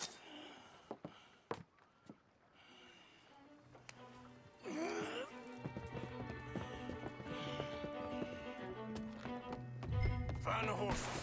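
Hooves clip-clop in scattered thumps, then a horse whinnies and galloping builds amid busy music and voices in Red Dead Redemption 2, growing louder toward the end.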